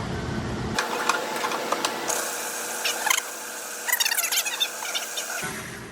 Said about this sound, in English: We're going to start by adding our oatmeal into our food processor.